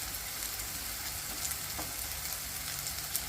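Spice paste and turmeric sizzle in hot oil in a kadhai while cooking shev bhaji, giving a dense, steady close frying crackle with a few small pops.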